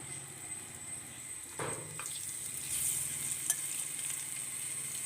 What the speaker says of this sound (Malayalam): ഇതിലേക്ക് നേരത്തെ നമ്മൾ മാരിനേറ്റ് ചെയ്ത് വെച്ച കൊഞ്ച് ഓരോന്നായി വെച്ച് ഒന്ന് ഫ്രൈ ചെയ്തെടുക്കാം